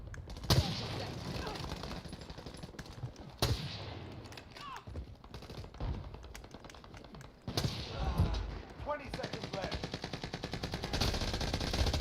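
Rapid automatic gunfire bursts crackle in a Warzone match, several sustained volleys with pauses between them, fairly loud, with a voice talking over parts of the action.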